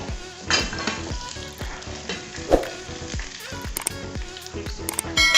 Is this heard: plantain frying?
yes